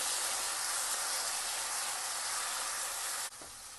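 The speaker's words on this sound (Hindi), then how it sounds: "मैंने अदरक लहसुन का पेस्ट ले लिया है। इसको हल्का सा हम भून लेंगे।" Ginger garlic paste fries in hot oil for a Bombay chicken curry, giving a loud, steady broadband sizzle that holds continuously and then drops off abruptly near the end.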